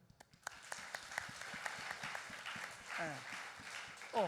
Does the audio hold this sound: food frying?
no